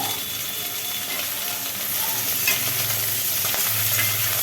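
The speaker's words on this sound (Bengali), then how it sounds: "ডাটা পেঁয়াজ একটু ভাজি ভাজি হচ্ছে" Drumstick (sajne) stalks and onion frying in a pan as a Bengali home dish is cooked, a steady close sizzle with scraping stirring and clattering utensil knocks, no talk.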